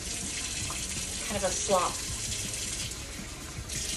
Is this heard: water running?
yes